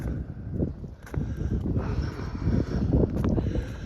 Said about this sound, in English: There's a wind gust.